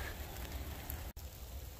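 Rain falls outdoors at a woodland bushcraft camp in a soft, steady hiss with no talk, briefly dipping once before resuming.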